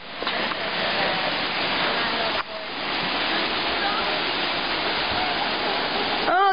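A Montana river rushes beside a roadside, a loud, constant roar of churning water that fills the scene without pause, close and unbroken.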